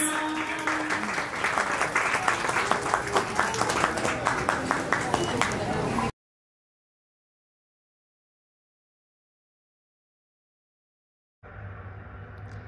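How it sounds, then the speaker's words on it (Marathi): Guests at a baby shower clap and applaud loudly and steadily for about six seconds, under music and chatter, before a long silent gap and a brief return of crowd noise. "जोरदार टाळ्या झाल्या पाहिजे सगळ्यांच्या प्लीज."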